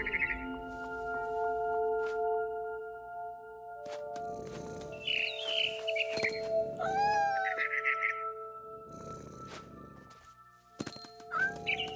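A cat meows several times in the video game What Remains of Edith Finch, short mid-pitched calls spread across steady game ambience and tones, with no talking.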